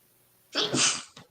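A single sharp, close sneeze after a moment of quiet, with a short breathy tail.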